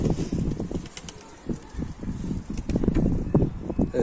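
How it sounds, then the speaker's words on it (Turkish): Pigeons take off together in a flurry of flapping wings, a close, loud, uneven patter of wingbeats lasting a few seconds with no talking. "Kuşlar yeni geldi, gene gitti."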